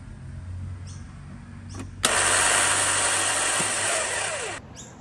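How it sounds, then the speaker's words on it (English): A Lexus RX330 with a Toyota 3.3 litre V6 has its starter motor spinning freely without engaging the flywheel: after a click, a loud, steady high whine runs for about two and a half seconds, then cuts off. "when you crank the key, the starter motor makes a noise, but it doesn't engage"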